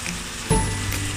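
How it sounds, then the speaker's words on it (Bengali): Chicken pieces frying in a pan for chicken tandoori, a close, even sizzle with a short louder hiss midway as pieces are turned, with no talking. "ওদিকে রুটি তৈরি হচ্ছে আর এদিকে চিকেন ভাজা হচ্ছে"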